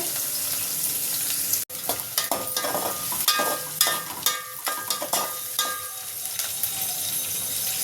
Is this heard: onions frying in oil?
yes